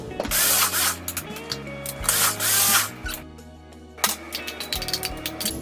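A food processor whirs in loud bursts while mushrooms and walnuts are blended for raw taco meat, stopping and starting between pulses, with a short rattling scrape of the bowl walls.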